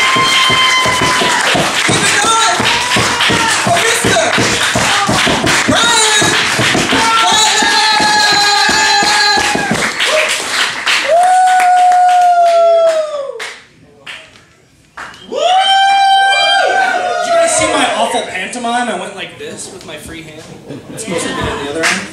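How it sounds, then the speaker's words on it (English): A live crowd at an Irish pub comedy night claps and cheers loudly for about ten seconds, a rhythmic dense patter with whoops, then the noise drops off and later swells again with shouts and voices over the clapping. "Clap with me."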